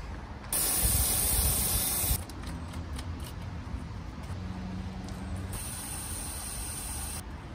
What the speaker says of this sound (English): Just hosed it up with carb clean.